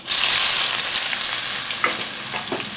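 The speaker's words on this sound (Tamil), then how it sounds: "இப்போ வெங்காயத்தை போட்டுடலாம்" Onions fry in a pan with cinnamon and cloves for chickpea sundal, giving a loud, close, continuous sizzle broken by a couple of stirring clicks.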